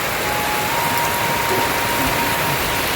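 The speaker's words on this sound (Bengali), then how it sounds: "আর কত জোরে বৃষ্টি হচ্ছে জল দাঁড়িয়ে গেছে বাগানে" A steady, dense hiss of heavy rainfall during a storm, water pooling in a garden, constant and loud throughout, with no pauses.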